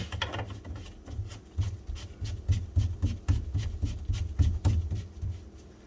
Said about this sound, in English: I'm going to line this up with my P-trap and tighten up this nut on top of it as well